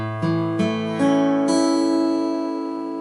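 A chord rings out on a six-string guitar, built up in a few quick attacks about a third of a second apart before sustaining and slowly fading, clear and close with no voice.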